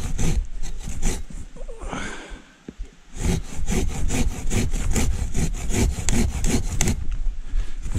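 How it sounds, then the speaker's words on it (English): Silky Bigboy 2000 folding pruning saw cutting a branch from the underside outdoors, with fast, loud rhythmic rasping strokes close by, one brief pause, then the strokes resume steadily. "So we don't get the saw trapped, go from the underside."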